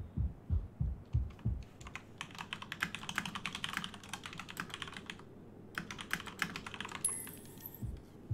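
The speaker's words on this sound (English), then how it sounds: "I'm sure my keyboard is picking up much more than it used to be." A Corsair computer keyboard is typed on in rapid bursts of clattering keystrokes, close and moderately loud. Several deep thumps come first, and there is a short pause between the bursts, with no speech.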